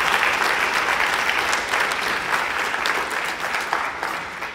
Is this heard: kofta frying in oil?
no